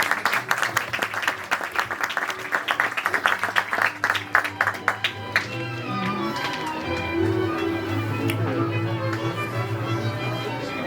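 An outdoor audience claps for a performance at a Puszta horse show in Kalocsa, Hungary: a burst of hand claps that thins out and fades after several seconds into a steady low background murmur.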